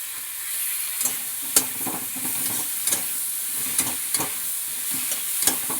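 Ginger, garlic and chilli paste, ground from dried and fresh green chillies, sizzling in a pan with a steady hiss and a few sharp stirring scrapes and clicks, close and with no talk.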